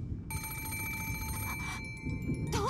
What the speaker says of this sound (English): It was the antique extension phone set on the table in Grandfather's study.